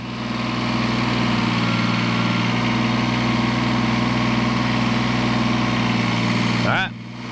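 A tractor engine idling steadily nearby at a sawmill, a continuous low rumble with a droning hum and a brief pitch shift near the end.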